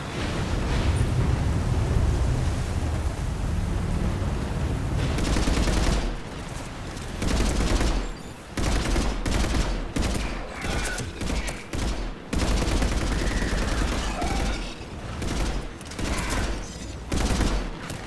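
Sustained heavy gunfire in the video game Mass Effect 3, loud dense bursts of automatic fire with booming impacts and explosions, broken by short pauses and continuing nearly throughout.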